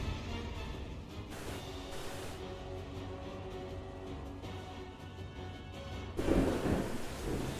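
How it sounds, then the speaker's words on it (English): A thunderstorm rolls through a Final Fantasy XIV game scene, steady rain hissing under low rumbles of thunder that swell into a louder crack of thunder near the end. "you can hear the storm"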